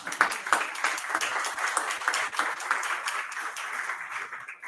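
A small audience at a book presentation at a foundation claps in a fairly light, scattered round of applause that stays steady for several seconds before thinning out.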